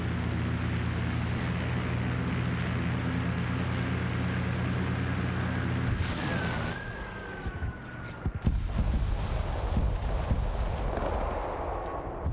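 Air-strike bomb explosion in a World War II video game, a heavy low rumble that breaks off into a tearing blast followed by crackling debris and a fading whine, loud and close.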